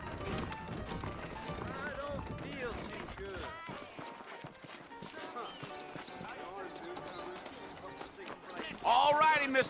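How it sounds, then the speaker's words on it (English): Horse hooves clip-clop in the Western video game Red Dead Redemption, set in a frontier town, a steady trotting rhythm under game music and characters talking, with a louder burst near the end. "I got the horses saddled up and ready out front."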